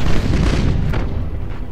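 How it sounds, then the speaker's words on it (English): Macro cannons on an Imperial Navy warship in Battlefleet Gothic Armada let off a loud, deep boom that rolls on as a rumbling blast for under two seconds. "Macro cannons fire."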